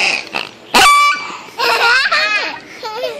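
Squeaky toy pigs squeal in sharp, high bursts as they are knocked together in play, with a loud squeak near the start followed by wavering squeals, heard close up.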